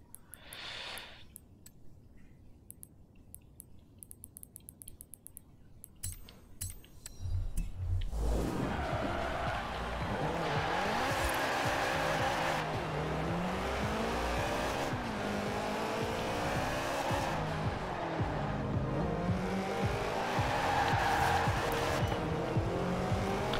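A rear-wheel-drive Subaru BRZ in the racing game Forza Horizon 4: after a quiet opening, the engine revs loudly and continuously while the tires squeal and skid, the sustained pitch wavering as the car slides.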